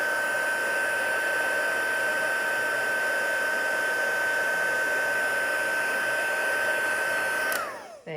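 A heat tool for embossing gold powder onto cardstock blows a steady, loud whirring hiss for several seconds, close by and alone, then switches off and winds down at the end.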